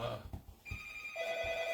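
A telephone rings in a room during a live painting session, steady electronic tones sounding over low background murmur and some voice.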